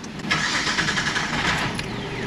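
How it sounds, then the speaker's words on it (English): An idling car engine runs close by with a faint metallic rattle from the catalytic converter buzzing underneath in quick, uneven pulses. "Did you hear that little rattle? That's the catalytic converter rattling."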